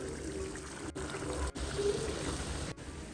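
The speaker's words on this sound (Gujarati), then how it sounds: "અડધા ચોખા નાખી દીધા હવે" Rice tipped into a pot of boiled chicken for biryani makes a continuous soft pouring rush, close and fairly quiet, broken by a few brief pauses.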